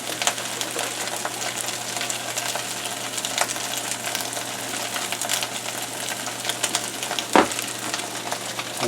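Food frying in a pan seasoned with kosher salt and Creole seasoning, a dense, steady sizzle with crackling spits throughout, close and loud, with one brief clank near the end.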